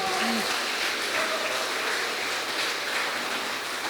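A church congregation claps in praise during a service, a continuous even wash of applause from many people, with a faint sung or spoken tone briefly audible early on.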